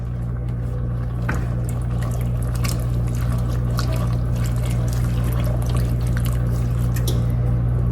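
Rinsed, drained chickpeas go into a pot of tomato soup with canned tomatoes and their liquid, giving soft wet splashes and trickling over a steady low hum.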